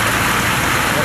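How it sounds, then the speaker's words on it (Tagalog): Heavy rain pours steadily at a highway street corner, a dense unbroken hiss filling the whole moment with no pauses, loud and close. "bumuhos ang malakas na ulan"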